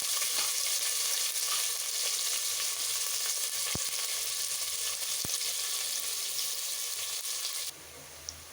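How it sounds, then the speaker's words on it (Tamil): Onions fry in a pan until browned, for brinji rice, with a steady, loud sizzle that continues throughout, with a couple of faint clicks, then the sizzling drops away abruptly near the end. "வெங்காயம் நல்லா ப்ரௌனாக நல்லா வதங்கிடுச்சு"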